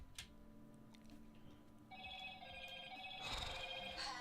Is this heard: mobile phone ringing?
yes